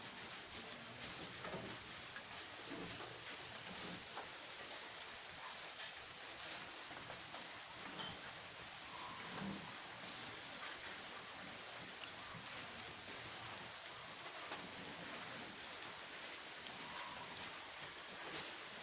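Farmed crickets in breeding pens chirp in a dense, continuous high-pitched chorus, steady and close throughout with no voices.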